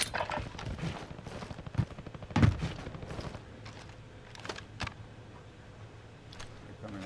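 Call of Duty: Warzone gunfire in a trios match, scattered shots and short bursts cracking out at varying distances, with one louder close burst amid steady background battle noise and light footstep-like ticks.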